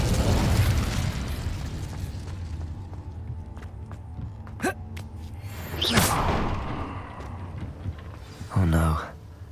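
An Incendio fire spell goes off in a Harry Potter wizard video game as a whooshing burst of flame over a steady game backdrop. A louder fiery rush follows near the end, with someone talking between the effects.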